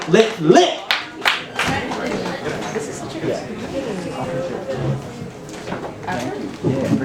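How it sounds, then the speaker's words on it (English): Short burst of claps from an open mic audience at the start, quickly fading into murmuring chatter and talking near the microphone. "Let's have a big round of applause"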